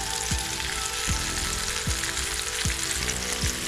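Paprika-coated pollock fillets fry in hot oil with a steady close sizzle, broken by a few soft regular knocks or stirs, and no talking.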